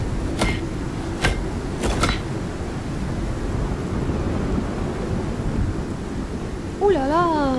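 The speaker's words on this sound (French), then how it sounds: "c'est une grosse tempête" A heavy thunderstorm in the survival game Icarus: steady loud rain roars throughout while several sharp thunder cracks strike in the first two seconds, and a whooping tonal sound rises near the end.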